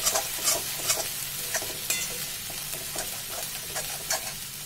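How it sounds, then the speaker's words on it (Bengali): Poppy seeds frying in oil in a pan with radhuni already tempered in, for a vegetarian potol dish; close crackling sizzle broken by regular stirring scrapes, no talk. "পোস্তটা তেলের সঙ্গে একটু ভেজে নিচ্ছি।"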